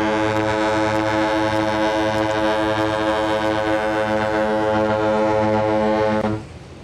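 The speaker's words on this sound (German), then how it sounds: "Dirk wünscht sich noch das Horn der Atania." A ship horn of the Atania blasts loud and deep for about six seconds with a slight throbbing pulse, then cuts off abruptly, with no voices.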